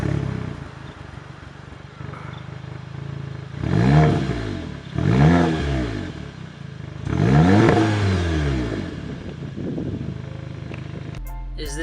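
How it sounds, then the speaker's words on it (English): A VW GTI with a modified exhaust, its muffler cut off and replaced with straight pipes, revs three times in loud rising-and-falling sweeps over a rumbling idle, recorded close. "the last modification I've done to my car is a modified exhaust"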